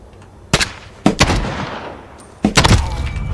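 Three sharp, loud gunshots from a first-person shooter video game crack out at spaced intervals, each with a short echoing tail, with no talk over them.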